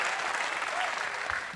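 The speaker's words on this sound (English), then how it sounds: "Round of applause for him as he takes the stage to deliver his welcome remarks." Audience applause at an HSSE industry forum as a speaker walks onto the stage, a brief burst of dense, steady clapping from a crowd in a hall, fairly loud and continuous.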